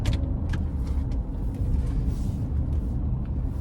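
A new car driving and accelerating, heard as a dense, steady low engine and road rumble from inside, continuous and fairly loud, with no talking.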